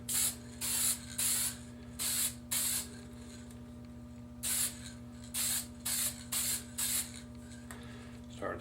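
Short hissing bursts of spray paint on a scale model car body in two clusters, each burst about half a second long, over a steady low mechanical hum.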